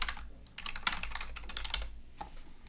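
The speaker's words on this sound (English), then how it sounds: "typing in here" Quick, close keystrokes clatter on a computer keyboard while text is typed into construction management software, a busy run of taps with a brief pause near the end.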